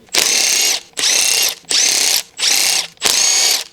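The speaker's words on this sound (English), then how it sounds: "Using the large 19mm long socket with the impact wrench," Impact wrench with a long 19mm socket removing lug nuts on a 2012-2016 Honda CR-V, five loud close bursts of rapid hammering, each lasting about half a second with short gaps between.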